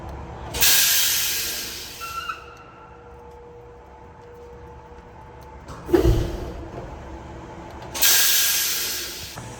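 Air brakes on a truck parked for a fault check release three loud bursts of hissing air, each fading out, with quiet gaps and a thump between them.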